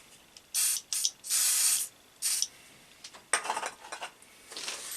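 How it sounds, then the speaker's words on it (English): Several short, sharp bursts of aerosol lubricant spray hissing, close by during fitting of a 50mm face shell mill, with brief pauses between them and a longer spray near the end. "spray that with a bit of lube"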